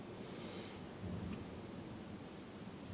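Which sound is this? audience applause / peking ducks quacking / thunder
thunder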